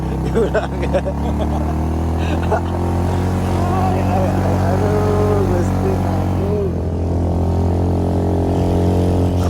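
A Suzuki Supra motorcycle climbs uphill under steady throttle, its engine droning loud and continuous close by as it labors up the slope, with wind noise throughout.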